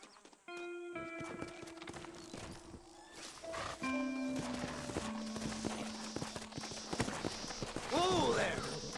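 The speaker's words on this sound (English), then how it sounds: "Horses are over here!" Horse hooves clip-clop in the Red Dead Redemption video game, a steady walking gait under a man's speech, with musical tones and a brief whinny-like call toward the end.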